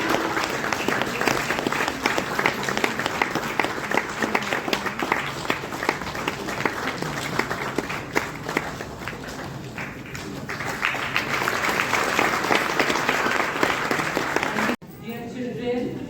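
Sustained audience applause at a charity function for the blind in a hotel hall, loud even clapping running for a long stretch as bouquets and mementos are presented, with a voice briefly audible at the end.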